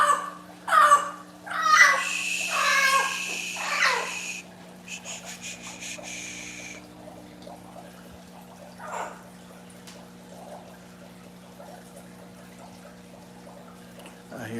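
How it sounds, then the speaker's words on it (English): Birds call inside a reptile and aquatics shop, with several loud squawking bursts in the first few seconds, then fainter chirps over a steady electrical hum while a person talks. "I hear the birds say"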